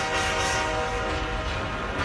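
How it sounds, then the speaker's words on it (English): Train horn sound effect, a loud sustained blast with a dense, harmonic-rich tone holding steady for about two seconds over rumbling noise, no talk. "you hear, like, a train, like a train horn?"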